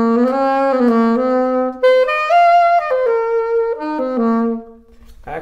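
Baritone saxophone fitted with a wooden French mouthpiece with a very small tip opening, playing a solo melodic phrase of sustained, smoothly connected notes with rich harmonics, close and loud, no talking.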